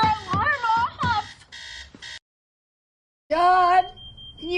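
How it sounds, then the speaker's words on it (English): An alarm clock sounding in repeated tonal bursts, a melodic electronic chime that stops, falls silent for about a second, then starts again, fairly close and clear. "Your alarm is going off."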